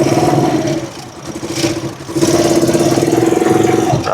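A Rusi Chariot 175 motorcycle engine revs up close and loud, its steady mid-pitched drone dipping briefly around the middle before surging back strong and holding to the end.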